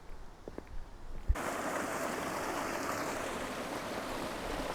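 Rainwater runs down the hills on a homestead, collecting into a steady rushing flow that sounds continuous and fairly close, starting abruptly after a few soft knocks and rising into an even, broad wash of water.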